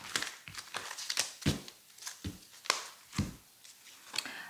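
Tarot-style cards handled and drawn for a daily reading, giving a series of short papery crinkles, flicks and snaps in an irregular rhythm, close and fairly soft, with no talking.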